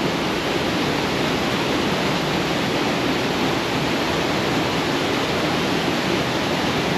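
Steady, loud roar of a waterfall in Portugal, a continuous broadband rush of falling water that holds unchanged throughout with no voices.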